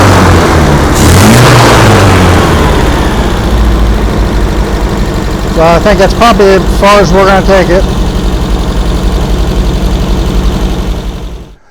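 Engine of a 1974 MGB GT running a little rough, with a low idle and a couple of revs, heard under someone talking close by.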